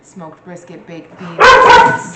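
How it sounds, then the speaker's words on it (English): A person speaks briefly, then dogs break into loud, close barking that lasts for the rest of the moment. "Again, sorry for the dogs."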